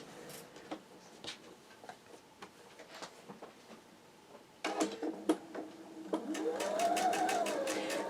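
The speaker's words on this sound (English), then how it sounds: "I am sewing all these pieces with a 1/4 inch seam allowance" A sewing machine stitches quilt block pieces for a Ripple Effect quilt with a quarter-inch seam, first in quiet intermittent bursts, then a louder sustained run of rapid ticking near the end.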